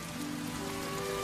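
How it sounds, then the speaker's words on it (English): Steady rain patters on a surface throughout, a continuous soft hiss with faint tonal hum beneath, no talk. "Is it still raining?"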